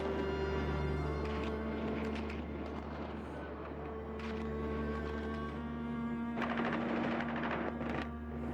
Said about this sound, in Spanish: aquí están sonando los tiros